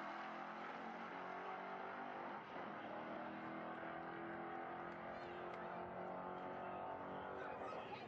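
Modified C4 Corvette with a small block Chevy engine racing past a Mustang, a sustained loud engine roar with rising revs throughout, fairly close and continuous.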